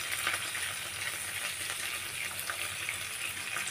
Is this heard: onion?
yes